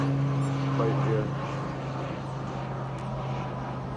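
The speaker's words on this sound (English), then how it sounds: "you will come across a lot of planes passing, flying over" A plane passes overhead near Grantley Adams International Airport in Christ Church, Barbados, a steady droning roar with a low propeller-like hum that carries throughout under outdoor ambience.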